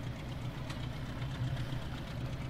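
Tractor engine from Farming Simulator 17 idling steadily with a low, even rumble and faint knocking throughout, no voices.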